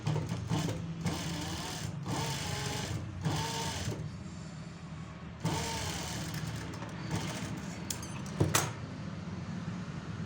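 A sewing machine runs in bursts, stitching an edge stitch along a fold of fabric, with the motor whirring steadily through several short runs and brief pauses between them.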